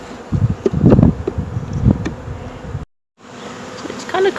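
Honeybees buzz around a beehive entrance, a close, dense drone with individual insects passing near. The drone drops out briefly near the end, then resumes.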